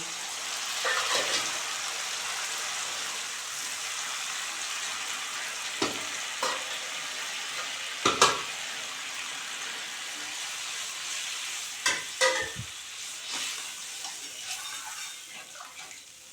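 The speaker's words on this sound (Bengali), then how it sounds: "এখন গরম জল দিয়ে দিচ্ছি" Hot water poured into sizzling spice paste for a koi fish curry, a steady close frying hiss with a few sharp bursts and splashes as the liquid hits the hot oil, no voices.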